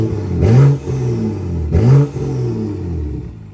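A BMW M235i in sport mode with a full custom exhaust revs twice in quick succession, each blip rising sharply then falling back to a burbling idle, loud and close.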